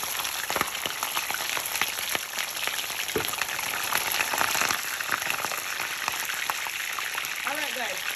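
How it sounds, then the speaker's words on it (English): Fish for Jamaican brown stew fish frying in hot oil, a dense crackling sizzle with popping spatter throughout, close and steady. "We're gonna fry them up."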